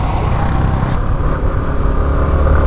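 A motorcycle engine pulls along a forest road with a loud, steady rumble and a low, continuous drone that holds throughout.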